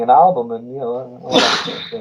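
Someone talks, then breaks off with a single sharp, explosive sneeze close to the microphone before his voice resumes briefly.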